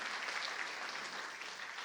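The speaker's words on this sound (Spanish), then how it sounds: "Un fuerte aplauso para estas 5 personas aquí adelante." Church congregation applauding during a Sunday sermon, a steady, even rattle of many hands clapping, moderately distant and fairly quiet throughout.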